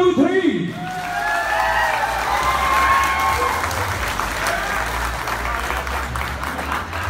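A live audience at a Punjabi music show in California claps and cheers loudly and steadily for several seconds, a dense wash of applause with crowd voices mixed in.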